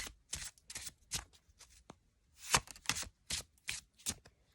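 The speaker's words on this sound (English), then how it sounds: "Take the deck out of the middle and then just shuffle that on top." A deck of cards being shuffled in several quick riffling bursts, crisp and close, with short pauses between each shuffle.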